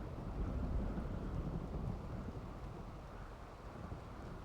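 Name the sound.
thunderstorm and rain in the video game Rimworld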